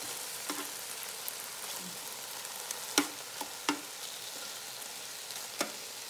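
Chicken pieces with a stray bit of onion frying in a pan for a slow-cooker Thai curry, giving a steady close sizzle broken by scattered crackles and pops, with no talking.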